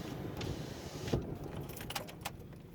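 A car is switched off and a set of keys jangles nearby. A low engine rumble fades out, followed by several light metallic jingles close up, with no talking.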